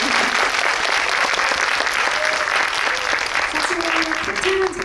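Audience applause fills a Korean cinema guest-visit event for the film Hi-Five at Megabox COEX, a steady, loud wash of clapping from a full hall, lasting throughout and tapering slightly near the end.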